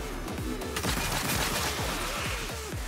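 Rapid bursts of machine gun fire from Destiny 2, a dense rattling stream of shots lasting about three seconds at moderate volume with no talking.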